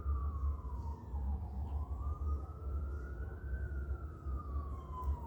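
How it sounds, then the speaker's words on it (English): A wailing siren rising and falling slowly over a low rumble of traffic in Brownsville, steady and moderately distant. "We have the sounds of sirens."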